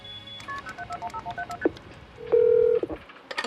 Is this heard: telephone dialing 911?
yes